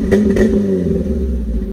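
Four-cylinder Chevrolet S10 engine blipped through a welded-on Monte Carlo SS exhaust, a loud, close rasping rev that swells and then drops away, no talk.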